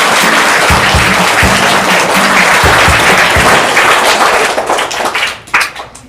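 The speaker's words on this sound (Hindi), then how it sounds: "जोरदार तालियां हो जाए उनके लिए।" Studio audience on a televised quiz show bursts into loud, sustained applause with a few heavier thumps, then the clapping thins out and fades near the end.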